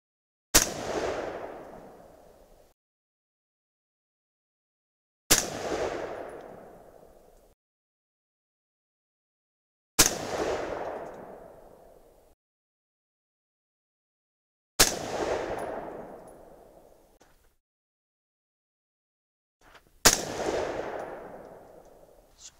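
Five widely spaced, sharp, loud 6.5 Creedmoor rifle shots fired from a magazine, about five seconds apart, each followed by a decaying outdoor echo and then silence, with no talking.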